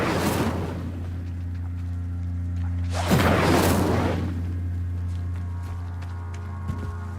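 An Incendio fire spell blasts in Hogwarts Legacy, a single loud whooshing burst of flame rising and fading over about a second, set against a steady low hum with a softer burst at the start.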